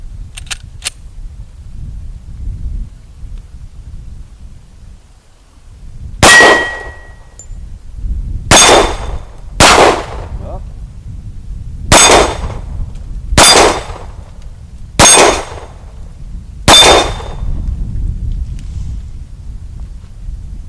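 Glock 36 pistol shots ringing off steel targets: seven sharp metallic clangs spaced about a second or two apart after a quiet start, each loud with a bright ringing tail over low background rumble.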